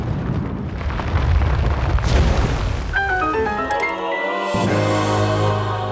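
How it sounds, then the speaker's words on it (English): Bomb detonates in Zelda: Tears of the Kingdom, a loud booming burst with a rumbling tail that gives way to bright chiming game tones. "so I threw a bomb."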